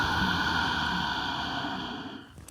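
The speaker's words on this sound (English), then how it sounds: "your Ujjayi breath, snoring, exhaling Darth Vader sound when you exhale through your nose" A steady, breathy Ujjayi yoga exhale pushed out through the nose with a narrowed throat, giving a hollow, rushing hiss. The sound is sustained and close, holds for about two seconds and then trails off, with no talking.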